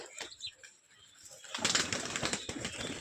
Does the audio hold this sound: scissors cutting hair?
no